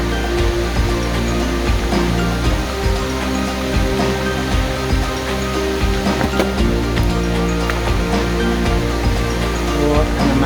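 Alabama Falls in O'Reilly's rainforest roars as a steady, loud, broadband rush of falling water that continues without a break throughout.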